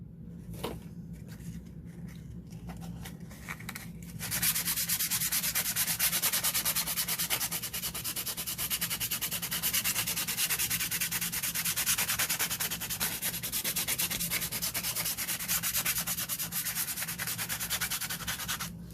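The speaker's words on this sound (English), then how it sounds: "Make sure you only sand the gesso, because then you're gonna damage your page" Sandpaper rubbing over dried gesso on a journal page, a dense, continuous scratchy rasp with fast back-and-forth strokes that starts after a few seconds of lighter handling sounds and keeps going steadily for the rest of the clip.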